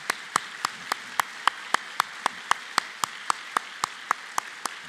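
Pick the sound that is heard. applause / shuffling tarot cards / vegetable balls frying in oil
applause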